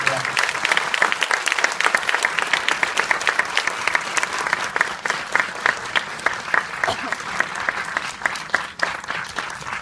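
Big round of audience applause for two film directors after a post-screening talk at a CGV cinema, sustained crisp clapping from a full room that carries on for several seconds, with some talk mixed in.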